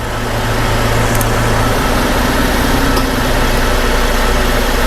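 A Cadillac CTS4 engine idles steadily up close, a low continuous rumble with a faint hum, no voices.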